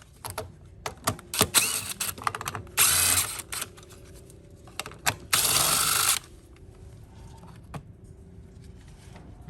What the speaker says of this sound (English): All I'm gonna do now is remove those 4 bolts, pull off the air hat